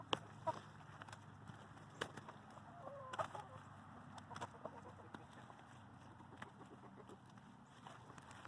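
Chickens cluck softly in short scattered bursts, quiet and somewhat distant, over a faint outdoor background.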